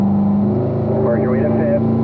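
A car engine on a race track holds a steady drone, then its pitch climbs as it accelerates, with someone talking over the close, continuous engine noise.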